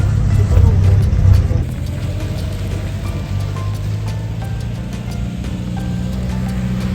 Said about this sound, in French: De belles brochettes de voitures, ça commence à arriver.